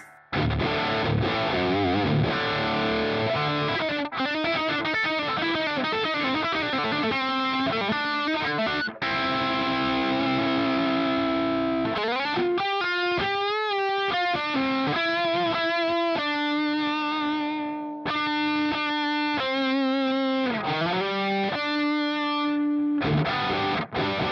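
Heavily distorted electric guitar through a Pro Co Rat-style distortion pedal plays sustained chords and riffs alone, thick and saturated, with brief pauses between phrases.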